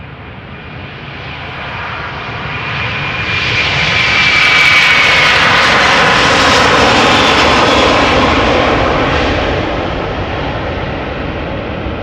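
A KLM Airbus A330-200, eighteen years old, departs Amsterdam Schiphol with a broad, loud jet roar that swells to a peak midway and then slowly recedes, with no voices.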